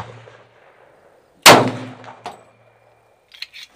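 A single loud, sharp H&R M1 Garand rifle shot cracks close by with a ringing metallic tail, followed shortly by a fainter clink and some light clatter in otherwise quiet surroundings.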